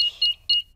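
A cartoon house alarm being switched on gives three short, high electronic beeps in a quick uneven pattern, clear and close against near silence.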